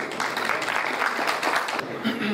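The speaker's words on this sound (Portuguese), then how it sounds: "recebendo aqui Jaqueline Meirelles, aplausos." An audience applauds at an evening awards ceremony honoring guests, a short steady burst of clapping heard up close with some voices mixed in.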